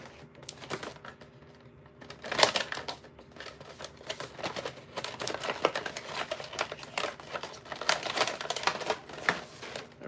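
Packaging of a Billy Gunn wrestling action figure being torn and crinkled open by hand, a steady run of close crackling, ripping and rustling bursts with no talk.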